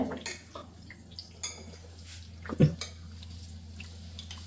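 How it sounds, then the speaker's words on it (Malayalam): Curry with yogurt is stirred in a pot, a steady low hum under soft clinks and scrapes of a spoon against metal, with one louder knock, quiet and close. "ഇളക്കട്ടെ."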